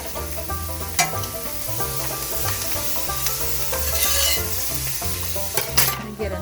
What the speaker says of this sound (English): put another little bit of butter there in the pan